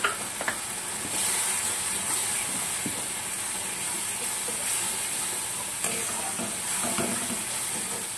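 Masala with turmeric is sautéed in a pan for a yogurt pointed-gourd curry, giving a continuous hissing sizzle with faint scrapes of stirring now and then. No voices are heard.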